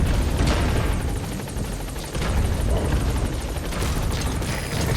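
A helicopter in Metal Gear Solid V: The Phantom Pain roars loud and close, its rotor chopping in a fast steady beat over a heavy low rumble, with a brief dip midway and no talking.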